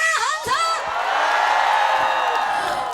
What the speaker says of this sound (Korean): 힘이 얼마나 났는지 우리 함성 한번 질러봅시다